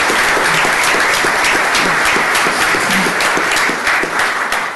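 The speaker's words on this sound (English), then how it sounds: "a round of applause for all those earning associate degrees" An audience at a county commissioners court meeting applauds employees earning associate degrees, with steady, loud, dense clapping throughout.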